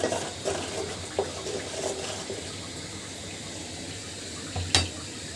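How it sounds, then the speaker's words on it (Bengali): Spice paste of garlic paste, turmeric, chili, coriander and salt is fried and stirred in a pan, giving a steady, wet hiss with scattered scraping knocks and one sharper clack near the end. "এখন মশলাটা খুব ভালোভাবে কষিয়ে নেব।"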